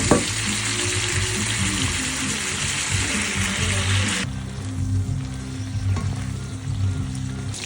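Prawns frying in a pan for a spicy homemade devilled prawn dish, loud continuous sizzling and bubbling up close, with stirring noises and a faint low rhythmic hum underneath.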